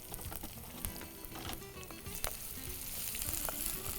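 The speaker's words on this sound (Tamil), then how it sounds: "இதில் சோம்பு, கருவேப்பிலை, வெங்காயம் இதை போட்டு நம்ம முதல்ல வதக்கிடலாம்." Fennel seeds, curry leaves and onion crackle in hot oil, a soft, continuous sizzle dotted with small pops and spatters, with occasional stirring.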